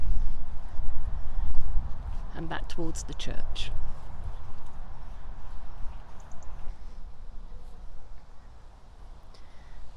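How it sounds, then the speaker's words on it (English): Horses walk near Clapham Woods with a steady, close clip-clop of hooves on hard ground, loud at first and then fading, while someone talks over the start. "Found the horses again"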